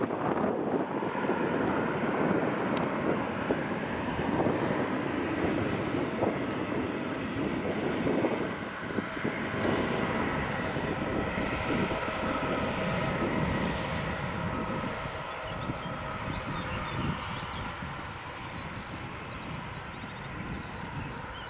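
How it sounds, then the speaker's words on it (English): Boeing 757 jet engines spool up at Edinburgh Airport, a broad steady roar and whine heard at a distance, holding fairly constant for about twenty seconds before easing slightly. "the 757's engines are just starting there in the background"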